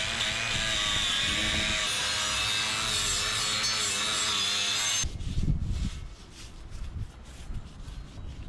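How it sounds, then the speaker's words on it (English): Scotch pad rubbed against a Nissan Skyline engine part, a dense steady abrasive scrubbing for about five seconds, then a few lighter scuffs and handling sounds, close up with no talk. "I've got myself a little Scotch pad. Give it a good rub."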